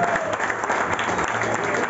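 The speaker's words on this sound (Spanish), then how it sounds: "Un fuerte aplauso por volver a reencontrarnos." A crowd at a regional children's fishing tournament gives dense, steady applause, a continuous wash of many hands clapping that fills the whole stretch at an even level.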